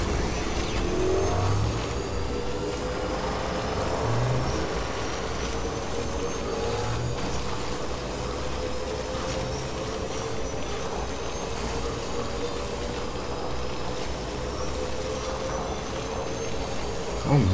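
A motorbike ridden in the video game Death Stranding produces a steady, even engine drone with a faint rising whine throughout, continuous and moderately loud with no break.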